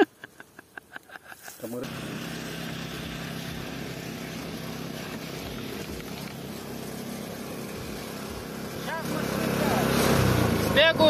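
A walk-behind tractor engine starts with a few rhythmic chugs, then settles into a steady, close drone that grows louder near the end while people talk over it.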